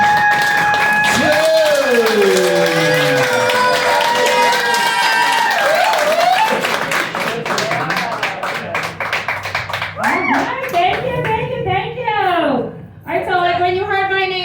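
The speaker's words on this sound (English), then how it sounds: "Could you please clap it up for the comedy stars of Serenity, London" Audience applause for comedians at a comedy night in a tavern: dense, loud clapping and crowd noise mixed with voices and cheering throughout.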